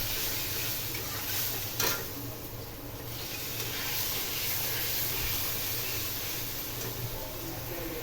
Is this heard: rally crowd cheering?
no